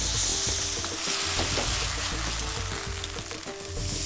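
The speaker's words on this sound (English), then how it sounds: "Smell of crispy fried garlic is always fantastic" Garlic frying in hot oil in a pan, a loud continuous hiss and crackle held steady throughout with faint stirring knocks underneath, close up and without speech.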